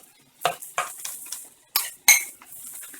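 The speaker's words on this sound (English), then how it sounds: "go right in and add that chopped up turkey" Chopped turkey with a little marinade tipped into a pan of sautéed vegetables, a few sharp scrapes and clatters of a utensil against the pan at irregular intervals, loud and close against near silence.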